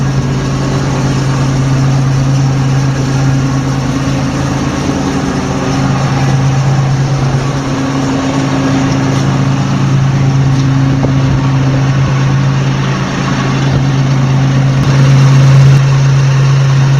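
An FV432 Mk2/1 armoured vehicle's engine idles with a steady, loud, low droning rumble, close by and unbroken throughout, with no voices.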